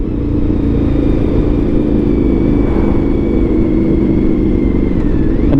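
A Honda VFR750 motorcycle engine drones loudly and close by, holding a steady, smooth note that drifts slightly in pitch before dipping near the end.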